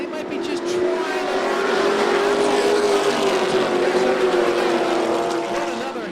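Pro trucks built for asphalt race around a dirt track, their engines a steady, droning roar that holds a constant pitch at some distance, with a commentator talking over the noise.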